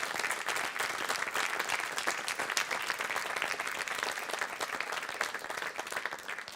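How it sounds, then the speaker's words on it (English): Sustained audience applause for a festival jury at a fulldome film festival awards forum, steady dense clapping from a crowd throughout without pause. "the jury deserves a roaring round of applause for doing this work"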